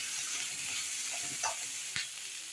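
Onions frying in a pan for a street-side parotta shop salna give a steady sizzle with soft stirring scrapes, plus a couple of sharper spatters near the end, with no talk.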